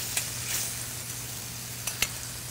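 Scallops searing in a hot pan, a soft steady hiss of sizzling oil with a couple of brief clicks of utensils, close and moderately loud, no voices.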